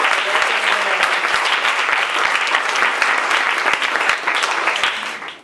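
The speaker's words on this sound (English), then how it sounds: "a round of applause" Audience at a youth debate on safer communities gives a round of applause, dense, close clapping from many people that stays strong and then tapers off at the end.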